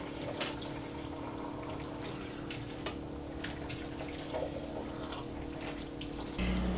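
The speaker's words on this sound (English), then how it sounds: "We'll give it a good stir." A pot of vegetarian tofu chili is stirred, giving a faint, steady wet churning with soft liquid clicks and sloshes throughout, no voices.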